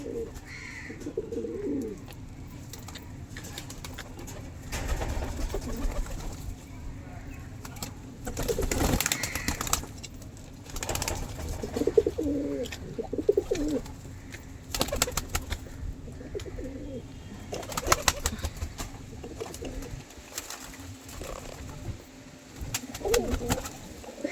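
Pigeons released after a long spell cooing repeatedly at close range, soft throaty coos recurring in bursts over a quiet outdoor background, with occasional wing flutters and no talk.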